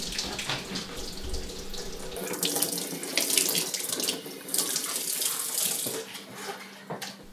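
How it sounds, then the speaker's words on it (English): Tap water runs steadily into a sink while a head of cabbage is washed for homemade sauerkraut, a continuous hissing splash with brief shifts in flow, close and fairly loud, with no talking. "we're going to take a cabbage and wash it"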